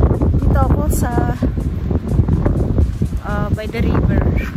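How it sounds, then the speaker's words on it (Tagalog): Strong gusty wind buffeting the microphone beside a river, roaring loudly throughout while a person talks over it. "Mahangin pa rin."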